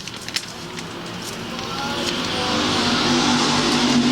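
IMCA race cars roaring off at the green flag at I-35 Speedway, a broad engine rumble swelling steadily louder as the pack accelerates together, dense and continuous.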